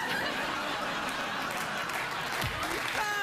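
Talk show studio audience applauding, a dense, steady patter of clapping with scattered chuckles, filling the room at moderate level with faint talk mixed in.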